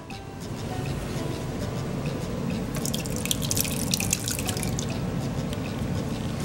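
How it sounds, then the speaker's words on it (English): Ginger simple syrup drips and trickles through a fine mesh strainer in a soft, steady patter with a slightly busier spell midway. "now we have to strain this in a fine mesh strainer"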